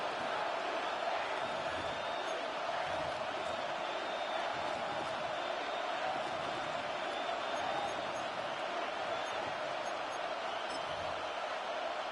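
Football stadium crowd roaring steadily before a third-and-goal play late in the game, a dense, continuous wall of cheering and noise that holds at the same level throughout with no lulls.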